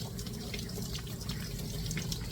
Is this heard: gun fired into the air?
no